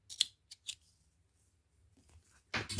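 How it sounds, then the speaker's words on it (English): Scissors snip through the end of yarn while crocheting a hexagon blanket, giving a few short, crisp cuts up close in a quiet room, with a louder rustle at the end. "and snip that off"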